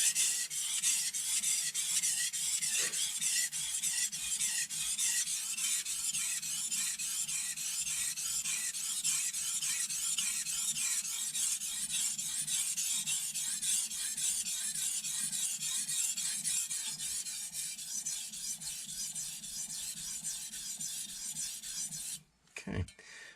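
A kitchen knife grinds against a whetstone in steady, even back-and-forth rasping strokes, close and continuous for the whole stretch, with no talking.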